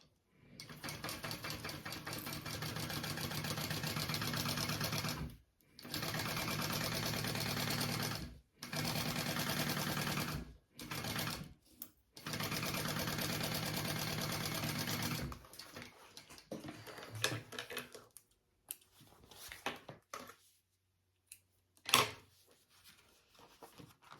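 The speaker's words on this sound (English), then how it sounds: "I'm gonna sew that and then we'll flip it up and top stitch." A sewing machine stitches a seam on a fabric bag in several sustained runs separated by short pauses, then gives a few brief bursts and clicks toward the end, all close and alone.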